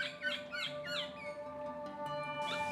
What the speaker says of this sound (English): I can hear the birds calling.